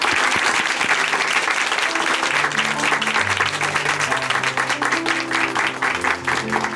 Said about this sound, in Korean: 박수로 함께 응원해드리겠습니다